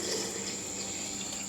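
Homemade apple cider poured through a funnel into canning jars, a faint steady trickling stream of liquid with no talk.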